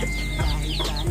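A flock of farmyard chickens clucking near a hut with a makeshift kitchen, producing scattered short clucks at moderate distance against a constant low hum.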